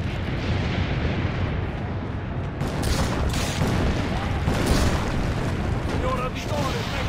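Cannon fire booms repeatedly during the siege of Monteriggioni in Assassin's Creed Brotherhood, heavy blasts and rumbling debris blending into a dense, loud battle din with distant shouting voices.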